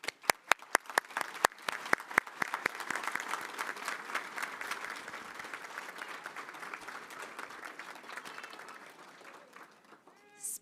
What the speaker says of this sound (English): Let's give a round of applause to the talented artists we are proud to celebrate